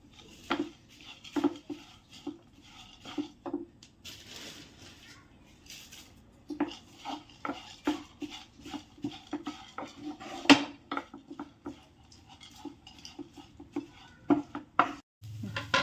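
Spoon scrapes and clinks in a home kitchen pan as poha (flattened rice) is stirred into onion samosa stuffing with ginger-garlic paste, giving irregular, close metallic knocks and rattles at moderate volume with quiet gaps between.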